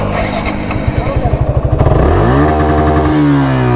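Suzuki Gixxer SF motorcycle revving to the top of its RPM range, starting with rapid pulsing engine beats that rise into a loud, climbing whine, then dropping and climbing again as gears shift, close and loud.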